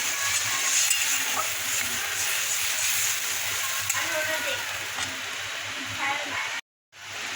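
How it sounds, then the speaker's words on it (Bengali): Hot water poured into sizzling oil-fried spice paste in a pan gives a steady, loud hiss and crackle that runs throughout, cut off briefly near the end. "দেখো মশলাটা কষানো হয়ে গেছে তেলও ছেড়ে দিয়েছে এর মধ্যে আমি অল্প গরম জল দেবো"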